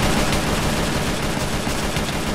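Rapid, sustained gunfire in Minecraft, a continuous dense burst of automatic shots heard at a steady moderate level with no voices.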